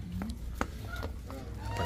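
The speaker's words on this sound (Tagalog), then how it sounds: "Ayan po, pakakainin naman tong mga pato sa kaganso." Geese and ducks honk and quack at feeding time on a farm, several overlapping calls close by with a busy background.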